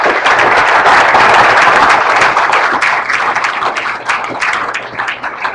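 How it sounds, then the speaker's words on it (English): Audience at a Syro-Malankara youth convention election session applauding, a loud dense wash of clapping that holds steady throughout, easing slightly toward the end. "So I really want to give him a big round of applause."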